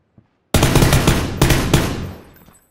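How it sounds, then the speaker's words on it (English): Gunfire in the military shooter game Squad hits near a window: a loud, sudden burst of rapid shots that rings on, with two more close reports before it fades. "Somebody's shooting at our window."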